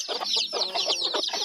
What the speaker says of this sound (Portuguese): Olha que galinhas bonitas.